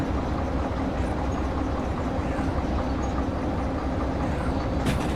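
A train running in the railway sim game Derail Valley, a steady rumbling roll of wheels and wagons with faint rhythmic clatter, continuous and close, no voices.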